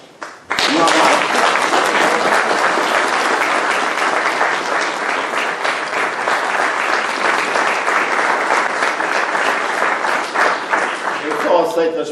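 Audience at a book launch breaks into loud, sustained clapping from a full room, a dense close applause that carries on steadily for about eleven seconds before thinning at the end.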